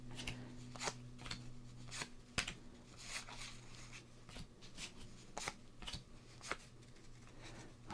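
Baseball cards handled and flipped one by one, quiet crisp snaps and rustles coming at an irregular rhythm, close up and soft, with no talk.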